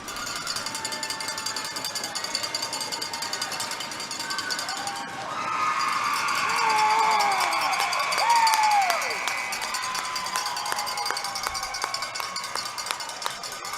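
Spectators cheer as a bantam hockey game ends, a sustained roar of crowd noise with whistles and shouts, swelling loudest in the middle and easing toward the end.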